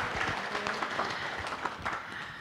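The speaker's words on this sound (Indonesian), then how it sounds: "Tepuk tangan dulu ya." An audience at a Buddhist vihara's general puja service breaks into dense, steady applause that fills the hall for a couple of seconds.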